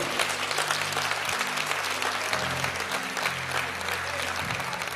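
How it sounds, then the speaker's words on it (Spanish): A church congregation applauds loudly and continuously as a dense, sustained wash of clapping, with a sustained musical hum underneath. "Denle un aplauso bien bonito al Señor."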